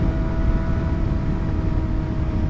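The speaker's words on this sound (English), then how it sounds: "You hear the sound of this bike?" Kawasaki ZX4-RR motorcycle engine running with a steady, dense roar and a constant tonal whine, loud and continuous throughout without any speech.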